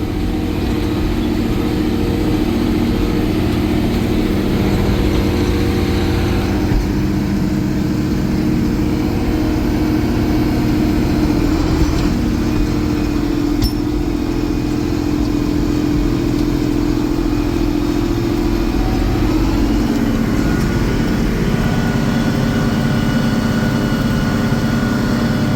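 A big farm tractor engine running loud and close during field planting, a steady low rumble with faint clattering that holds constant throughout, no voices over it.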